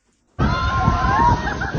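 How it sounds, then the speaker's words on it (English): Floodwater churns loudly through a flooded city center with cars underwater, and a steady roar of rushing water mixes with distant shouting and voices from people fleeing the torrent. "The city center is flooded, cars are underwater, Muscovites are running, shouting, fleeing from the torrents."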